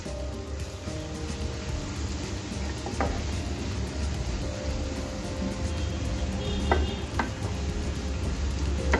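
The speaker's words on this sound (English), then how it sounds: "And we will give it a good mix." Onions with turmeric powder fry in a pan, a low steady sizzle with occasional light scrapes and clinks of a spoon being stirred through, fairly quiet and close.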